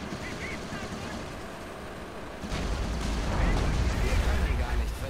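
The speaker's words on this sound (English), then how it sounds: "Oh, here the Calliope comes again!" Calliope rocket artillery barrage in Company of Heroes, a dense rumbling salvo of launches and impacts that swells after a quieter start, with a voice talking over it.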